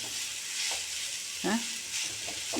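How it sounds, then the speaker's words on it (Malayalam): Onions frying with chickpea flour in a pan give a steady, close sizzle, with a brief scrape of stirring partway through and no voices. "ഇനി ഇതിനെ നന്നായി അങ്ങോട്ട് ഫ്രൈ ചെയ്യുക"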